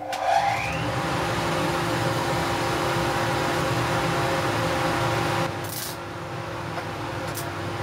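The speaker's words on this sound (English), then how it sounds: "Now we'll just switch on that extractor." A welding fume extractor runs with a steady, loud broadband motor whoosh and hum, starting at full level from the outset and dropping slightly partway through, with no talking.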